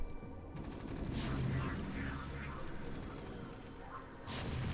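StarCraft siege tanks fire in heavy, booming shots with explosions and battle clatter, layered under continuous commentary.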